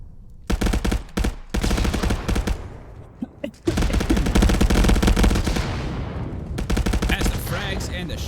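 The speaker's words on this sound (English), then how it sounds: "And the shots ring out." Rapid bursts of gunfire from a VR shooter match, loud machine-gun volleys broken by brief pauses, then a long sustained stretch of dense firing, with a voice briefly heard.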